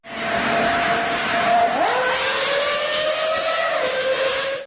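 A high-pitched engine screams steadily, its pitch dipping sharply once then climbing again, loud and continuous like a racing V10 at speed.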